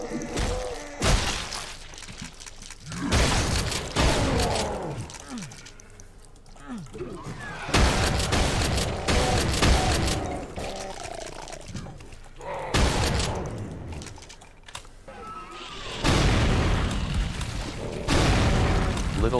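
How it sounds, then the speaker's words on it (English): Repeated bursts of gunfire and heavy booming explosions from a soldier fighting in the GZDoom game Extermination Day, loud and close, coming in waves separated by brief lulls, with a voice talking over the action. "Soldier shoots, and sniper dies a horrible death."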